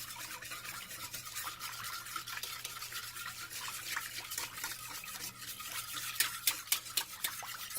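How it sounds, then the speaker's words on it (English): A whisk stirring chicken taco sauce in a bowl: a fast, steady scraping and clicking rhythm close by, fairly faint, with a few sharper taps near the end. "I'm just going to whisk this up"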